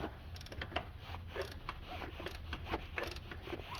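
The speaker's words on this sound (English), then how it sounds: "all you're doing is just loosening all three of these bolts up to the point at which your alternator will actually slide and pivot back" Alternator bolts on a 2012 Hyundai Accent with a 1.6L GDI engine are loosened, producing faint repeated ratcheting clicks and creaks over a low background hum.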